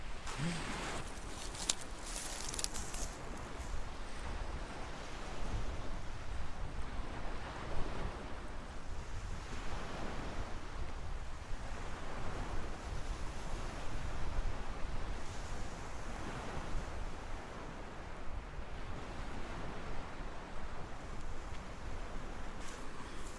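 Ocean surf washes steadily onto a snowy beach in broad, continuous noise with rolling swells, mixed with buffeting wind on the microphone and no clear talk.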